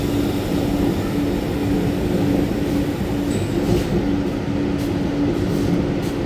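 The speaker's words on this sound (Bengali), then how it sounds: "দমদম ক্যান্টনমেন্ট মেট্রো ঠিক আসছে" A metro train pulls into Dum Dum Cantonment station on the Noapara to airport line. Its steady, loud rumble of wheels on rail fills the whole stretch, with faint higher squeals near the end and no voices.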